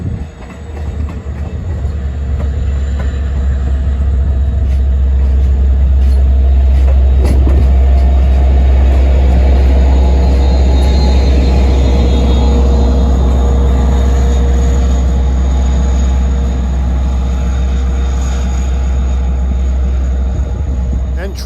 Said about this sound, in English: This is train 657, an equipment move to Stony Brook and a revenue train to Huntington.